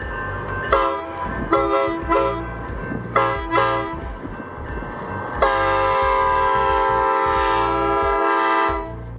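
A passenger train on the 64-mile Grand Canyon rail line out of Williams, Arizona sounds several short horn toots, then one long sustained blast, over the rumble of the rolling cars.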